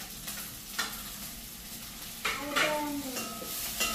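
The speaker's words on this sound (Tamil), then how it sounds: "இந்த பச்சை மிளகாயம் வெங்காயம் கொஞ்சம் நல்லா வதங்கட்டு." Green chillies and onion frying in a pan in a home kitchen in Jaffna, giving a steady close sizzle with stirring scrapes and a few utensil clinks, growing louder toward the end.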